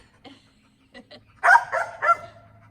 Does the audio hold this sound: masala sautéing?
no